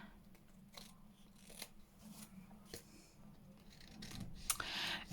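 Scissors trim paper for a handmade tag book with quiet snips and crisp paper crinkles, plus soft handling rustles, close and faint.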